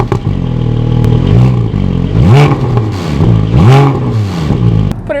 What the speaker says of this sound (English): Although I have the stock exhaust, it's loud on startup and when at full acceleration.